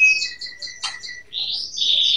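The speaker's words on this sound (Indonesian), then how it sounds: "Bentar, kenarinya lagi bunyi." Pet canary singing indoors at night, a close run of bright chirps and trilled whistles with a short buzzy burst midway, steady and fairly clear against a quiet background.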